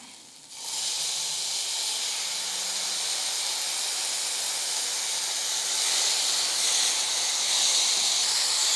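Tomatoes drop into a pan of hot spiced masala and set off a sudden loud, steady hissing sizzle that holds and swells stronger toward the end, with no talking.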